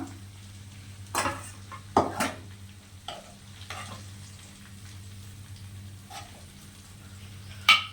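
Chicken goes into a pot for homestyle biryani, setting off a continuous sizzle under a low steady hum, with several sharp clatters of a spoon or pieces hitting the pot.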